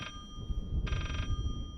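Telephone bell ringing in the horror game Layers of Fear, two quick bursts of a bright, trilling electric ring heard faintly over a low rumbling background, without voices.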